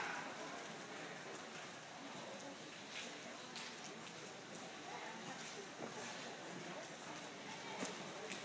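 Horses trot around a show arena during a riding class, their hooves giving a faint, rapid clip-clop in a steady rhythm against a noisy, hissing background.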